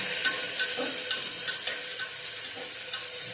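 Chopped tomato sautés in a hot pan with a steady bright sizzle, broken by light periodic scrapes of a spatula stirring, close up with no talk.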